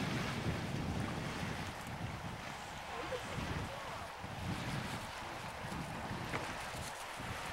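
A boat moves across water with constant rushing spray and heavy wind buffeting the microphone, loud and unbroken throughout.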